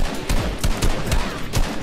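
Rapid gunfire in the video game Fortnite: repeated sharp, loud shots in quick bursts, close and filling the whole stretch without talk.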